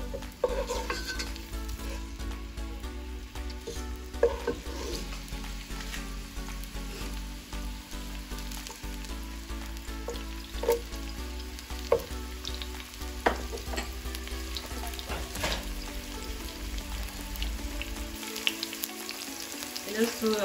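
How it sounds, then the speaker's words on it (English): Onion sizzling steadily in hot oil in a pan, a continuous crackling fry with occasional stirring scrapes, close and even throughout. "So we allow the oil to heat up a little before we go in with our onion."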